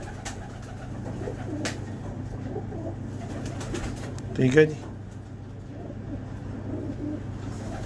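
Pigeons kept in a pigeon loft coo softly behind a voice, with a louder bird call near the middle over a low steady background hum.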